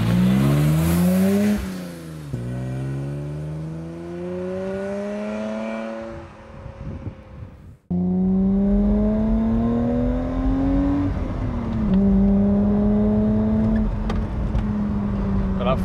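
A BMW E30 3 Series Touring with a five-speed manual gearbox drives along B-roads. The engine note climbs steadily through the gears, with a short lift and dip between shifts, and the loud cabin drone persists throughout.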